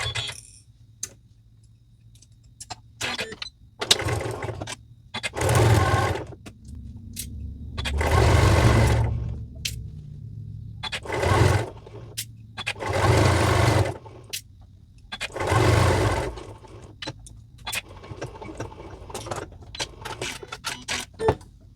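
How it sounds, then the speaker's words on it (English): A sewing machine stitches binding onto a Bambino Cuddle kit quilt in repeated bursts of steady mechanical chatter, with short pauses and some fabric handling between runs, close and moderately loud with no talking. "we're just going to sew until we get to that perpendicular pin"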